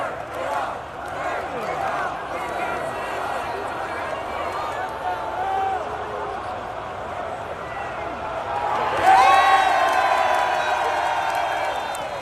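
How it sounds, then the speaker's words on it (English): A wrestling arena crowd roars steadily, swelling louder near the end as the arena lights go off, with cheers and whoops carrying over a commentator's voice. "fans cheer loud as they turn this light off"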